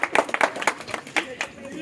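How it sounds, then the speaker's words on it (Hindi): A church congregation gathered for an Easter candle march gives a short burst of clapping, a handful of uneven claps spread over a couple of seconds, moderately loud with faint voices behind. "जोरदार तालियां"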